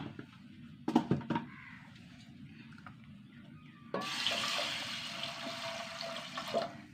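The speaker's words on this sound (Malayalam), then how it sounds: "ആവശ്യത്തിന് വെള്ളം ഒഴിച്ചു" Water pours steadily into a pressure cooker with salt and turmeric for about three seconds with a broad rushing splash, following a few clattering knocks.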